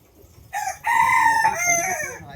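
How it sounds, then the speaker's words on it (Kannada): Hens come to lay their eggs, and a rooster gives a loud, close crowing call in a couple of drawn-out bursts, with some clucking in a quiet rural yard. "ನಮ್ಮ ಕೋಳಿಗಳು ತತ್ತಿ ಹಾಕಕ್ಕೆ ಇಲ್ಲಿ ಬಂದವು."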